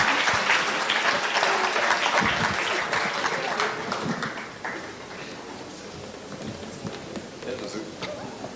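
An audience applauds after a speech on investment strategy, equities and wealth creation, dense clapping loud at first and thinning out as it continues.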